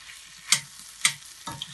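Timur-based masala being stirred and mixed in a frying pan, with three distinct scraping stir strokes over a soft, steady sizzle, close and fairly clear.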